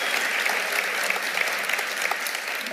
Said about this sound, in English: let's have a round of applause if you want to have that